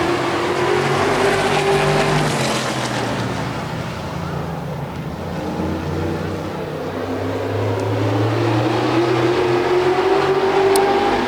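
Modified race cars at green for a heat race, a steady loud roar of engines droning and rising together with wind rumble, continuous for the whole stretch and sounding moderately distant.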